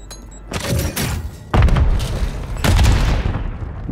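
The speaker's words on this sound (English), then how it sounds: "Oh, that's a nade." Grenade blasts in a video game shooter, several loud booming thumps in quick succession with gunfire-like cracks between them, close and heavy.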